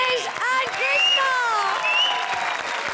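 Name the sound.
applause from studio audience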